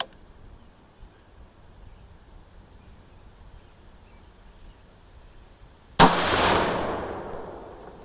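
A single sharp rifle shot cracks out near the end, loud and close, firing a handload of Alliant Power Pro 2000MR powder behind a Sierra 69 grain bullet, its report trailing off into a decaying roar after a quiet stretch.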